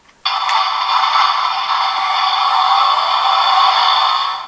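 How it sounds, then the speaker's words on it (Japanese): A tinny electronic ringtone melody plays from a small speaker in a Kamen Rider Build DX Build Phone toy, starting abruptly and continuing steadily for several seconds before stopping. "ビルドフォンの時はちゃんと携帯の音楽が鳴って"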